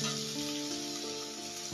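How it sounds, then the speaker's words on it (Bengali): Potatoes and pointed gourd fry in a pan, giving a steady, close sizzle of hot oil that hisses without pause throughout. "আলুটা ভাজা হয়ে গেলে তুলে নেব নিয়ে তারপরে পটলগুলো আরও একটু ভেজে নেবো"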